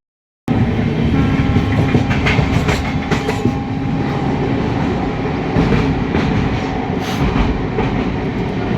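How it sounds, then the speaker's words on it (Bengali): An Amritsar to Howrah passenger train pulls into Bareilly Junction with a loud, continuous rumble of wheels and rattling carriages. Rhythmic clickety-clack sounds up close, and no voices are heard. "বারেলি ঢুকছে আমাদের ট্রেন"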